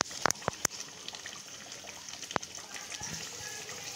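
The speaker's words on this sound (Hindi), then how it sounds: "अब हम इसमें पानी शामिल करके इसको पकने के लिए रख देते हैं" Water is poured into a pot of bubbling mutton aloo gosht curry, a sizzling splash followed by a few sharp spits and pops, then a low steady simmer close by.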